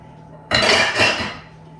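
A casserole dish being handled in a kitchen, a sudden clattering scrape of dishware lasting about a second, loud and close, with a second rattling knock before it fades.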